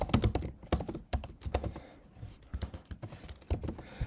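A computer keyboard tapped at close range while coding, with quick irregular bursts of keystrokes separated by short pauses.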